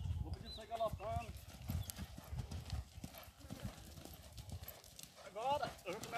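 Hooves of a young filly three months into breaking clip-clop steadily as she gallops in a figure eight, close by, with a voice talking over them and a brief whinny.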